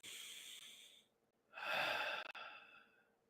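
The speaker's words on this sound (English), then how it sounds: "Take a breath." A person draws in a slow, deep breath alone in quiet surroundings, a soft airy inhale that swells and fades, then a second fuller breath follows after a short pause.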